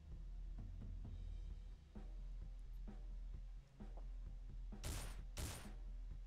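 Gunfire in the survival game Survivalist: Invisible Strain: a series of muffled thuds and shots spaced over several seconds, ending in two sharp, loud bursts close together.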